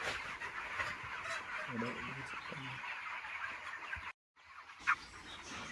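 Chickens of about two and a half kilos clucking in a poultry farm shed, soft scattered clucks at a moderate distance amid faint background noise and a voice or two.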